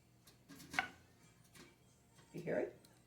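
Canning jar lids on jars of Christmas jam pop as they seal: two soft, faint pops about two seconds apart in a quiet room.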